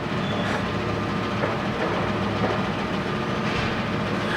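A Monarch 16x54 lathe runs in its low range at 28 RPM with a loud, dense, continuous mechanical rumble and a faint rhythmic clatter, close and steady with no talking.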